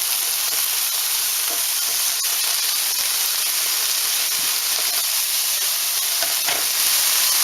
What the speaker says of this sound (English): I am going to saute this until the onions become translucent